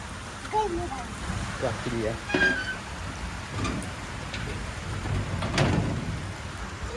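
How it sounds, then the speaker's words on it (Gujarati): Steady rain pours down with a constant hiss, while voices talk intermittently over it. "હજુ વરસાદ વરસાદ વરસાદ પડી ગયો"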